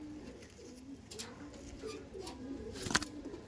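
Andhra pigeons coo in a low repeated murmur close by, punctuated by a few brief sharp clicks and knocks, with no clear talking.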